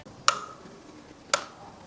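Small bronze gong on yellow rope, coated with car underbody rust-proofing, struck twice, giving two short dull knocks with almost no ring, close by in a quiet room.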